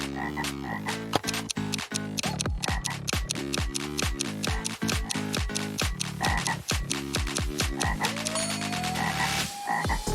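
A frog croaks in a steady, rapid series of loud, close, rhythmic calls that continue throughout, with no voices.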